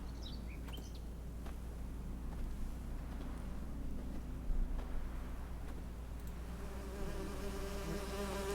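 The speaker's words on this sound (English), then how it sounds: "Burn away the painted bees." Painted bees in The Witcher 3 give off a steady insect-like buzzing drone that fills the scene, with faint chirps and game ambience layered over it and no talk.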